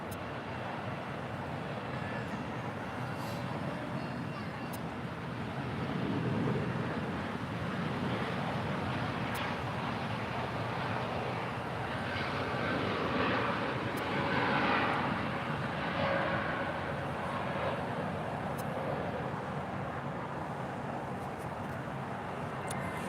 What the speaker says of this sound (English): 647 departing to Mexico City on an 8-year-old 787-8